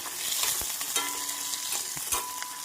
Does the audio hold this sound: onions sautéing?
yes